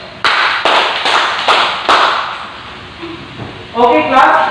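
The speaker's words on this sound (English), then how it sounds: "give 5 claps for yourself" A class claps five times, quick separate bursts of hand claps from a group, followed by a voice speaking briefly.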